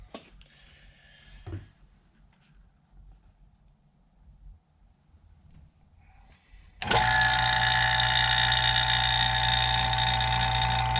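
A vacuum pump testing the intake valve seal on a 2012 Hemi 1500 engine kicks on abruptly after quiet shop handling, then drones loudly and steadily with a buzzing hum.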